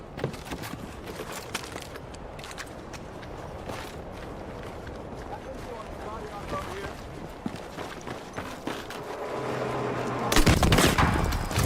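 Gunfire in the Battlefield REDSEC battle royale game: repeated sharp shots and bursts crackle throughout, mixed with footsteps and movement, building louder near the end, with players talking over it.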